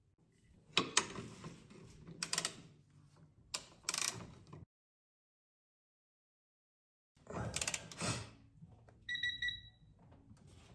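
A 3/8-inch drive torque wrench being adjusted to a setting while working on an Audi RS5 (B9.5) catch can install, giving several short bursts of ratcheting, clicking mechanical sounds, close up, separated by a silent pause.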